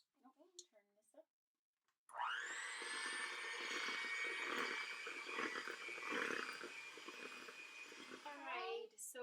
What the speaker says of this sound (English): Josephine's going to use a mixer to mix everything together.